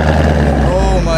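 A supercharged 720 bhp Ford Mustang GT with an overly loud exhaust, a heavy, deep, continuous rumbling drone close by and very loud, with a voice speaking over it.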